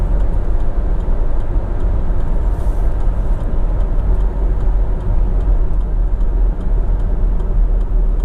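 A 2014 Range Rover Evoque driven over rough, potholed roads in heavy rain in Miami, with a steady low road and engine rumble and a constant wash of tyre and rain noise, plus faint ticking, no voices.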